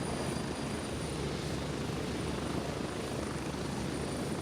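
Military helicopter from the video game Gray Zone Warfare coming in to land, a loud, steady, continuous rotor and engine roar that stays close and constant throughout with no talk over it.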